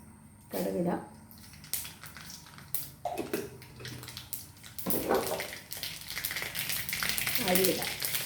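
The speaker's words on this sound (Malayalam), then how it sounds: "കടുകിടാം." Mustard seeds spluttering in coconut oil in an iron pan, a close crackling sizzle with sharp bursts of popping, heard under a person talking.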